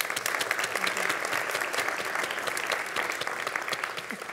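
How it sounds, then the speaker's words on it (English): Audience applause at a conference session, steady dense clapping from a crowd throughout, fairly loud and close with no talk over it. "Please give them a round of applause."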